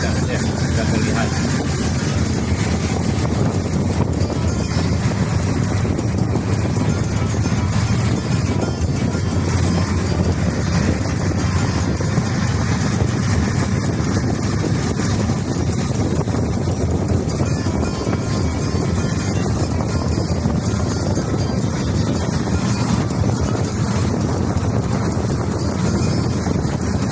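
An open Acehnese motorized rickshaw (becak motor) rides through Banda Aceh city, heard as a loud, steady engine and road rumble buried in heavy wind buffeting on the microphone, with a voice talking over it.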